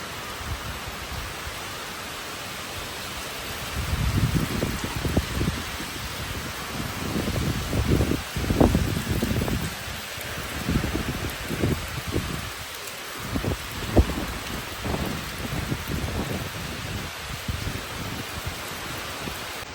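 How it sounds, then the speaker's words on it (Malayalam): Steady rain hisses throughout, with heavier, rumbling bursts of downpour and rustling swelling through the middle. "നല്ല വെയിലുണ്ടായിരുന്നു ഇപ്പം നല്ല മഴയാണ്"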